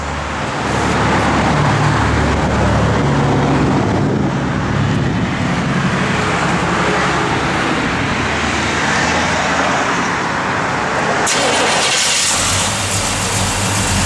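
A 1955 Chevrolet Bel Air with a mild cam, running on pump gas, idles and runs steadily with a continuous deep engine rumble, close and fairly loud, with a brief shift in tone near the end.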